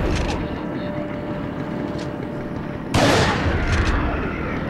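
Gunfire in the Resident Evil 4 video game, with a sharp, loud blast near the middle that hangs on as a dense burst over a continuous busy game soundscape of rumble and noise.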